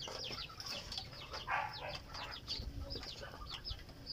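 Pet ducks being fed on a small farm make quacks and clucking calls, with wings flapping and rustling close by. The sounds are faint and continuous, with no speech.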